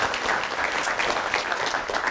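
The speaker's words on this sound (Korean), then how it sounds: "박수 한번 보내주시죠" Applause at a lecture on entrepreneurs: an audience claps continuously in a dense, even burst that stays steady and close throughout, with no speech over it.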